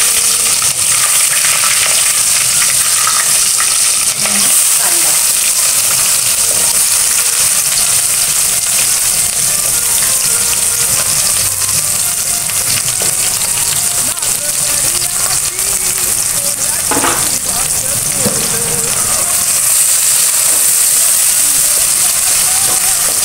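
Curry leaves and green chillies fry hard in a pan, making a loud, constant crackling sizzle with occasional stirring scrapes. A voice is faintly present under the frying in places.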